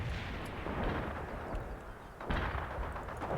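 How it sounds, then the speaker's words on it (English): Airstrike explosions rumble in the World in Conflict video game, a dense, loud roar of heavy booms and artillery-like blasts that rolls on continuously, with a fresh burst partway through. "Airstrike is on the way."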